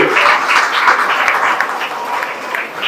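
A group clapping loudly at a local gathering, dense and continuous applause with many overlapping hand claps that eases slightly toward the end.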